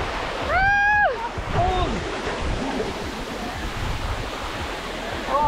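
Waterfall at Oslob in the Philippines, a steady broadband rush of falling water filling the background, with a brief whistling or voice-like tonal sound near the start.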